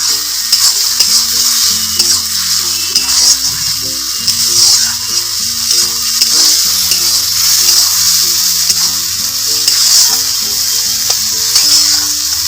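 Spice masala frying and sizzling in oil as it is stirred, a steady bright crackle with faint scraping of a spoon, continuous and close with no talk, while cooking a cauliflower, potato and prawn dish.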